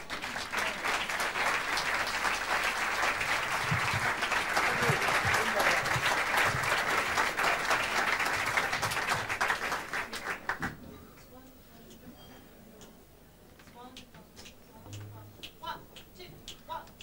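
Audience at a jazz concert applauds the musicians, a loud, dense roar of clapping for about ten seconds that then cuts away to a quieter room with scattered sounds and faint voices.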